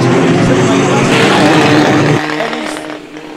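A full-contact banger racing stock car at Stansted Raceway roars past loud and close, a dense engine rumble that drops away as it moves off.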